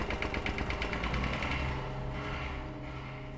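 Rumbling tractor approaching in the horror game Tiny Bunny, a rapid chugging engine putter at first that settles into a steady, moderately quiet mechanical drone.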